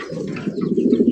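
A single close, loud pigeon coo from a bird at a pigeon sale, a deep rolling call of about a second with no talking.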